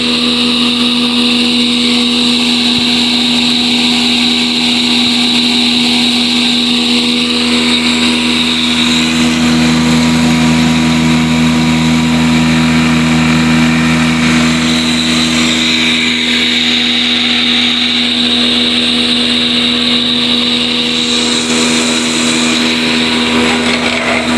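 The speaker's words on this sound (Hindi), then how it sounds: "और ये ग्राइंडर चक्की है।" A solar-powered wheat grinder flour mill with its motor run at 1850 rpm hums and whirs steadily, a loud continuous mechanical drone with a constant tone and no voices.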